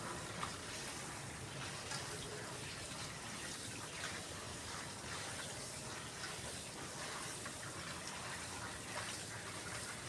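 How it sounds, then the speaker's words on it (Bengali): Torn taro leaves being washed by hand in water, a steady splashing and sloshing wash that runs close and continuous throughout with no voices. "এইভাবে সব কচু পাতাগুলো ছিঁড়ে টুকরো করে খুব ভালো করে ধুয়ে নিচ্ছি।"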